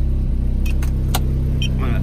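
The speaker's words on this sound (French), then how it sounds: "la voiture tourne encore." A car engine keeps idling after the ignition key is pulled, held running by a turbo timer. A steady, close rumbling throb runs throughout, with light key jingles and clicks on top.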